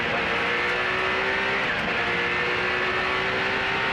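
Race cars, among them a 1986 Porsche 962C, roar together at a green-flag start in a Bonhams Cup race, a loud continuous engine drone with rising pitch as the pack accelerates.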